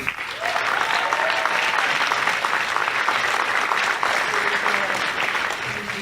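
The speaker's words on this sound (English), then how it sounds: "First of all, a round of applause for Lauren Brock" Audience applause at a live show at PopCon Indy 2018, sustained crowd clapping throughout, with a few faint voices mixed in.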